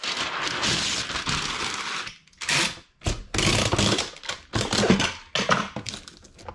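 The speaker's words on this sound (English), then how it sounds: "I'm gonna put a little bit of paper in there." Packing paper crumpled and stuffed into a shipping box, heard up close as loud crinkling and crushing in several bursts separated by brief pauses.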